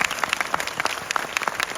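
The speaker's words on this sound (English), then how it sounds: "Can we have a round of applause for John?" Audience applause for John Grant at a Golden Eye award ceremony at the 2025 Zurich film festival, a dense, steady burst of many hands clapping in a hall, fairly loud and sustained without talk.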